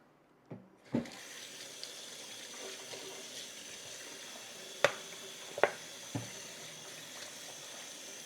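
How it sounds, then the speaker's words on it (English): Greasy hands washed under a running kitchen tap while cooking stuffed peppers; steady close water flow with a few sharp knocks and splashes from hand and sink contact. "Now I'm gonna wash my hands because they're greasy as fuck."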